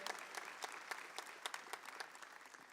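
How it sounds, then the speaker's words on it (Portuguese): A church congregation claps for itself during a Catholic priest's homily, a fairly faint but steady patter of many hands with scattered sharper claps standing out, no voices above it. "Então se aplauda, eu queria que você se aplaudisse, porque você tem fé."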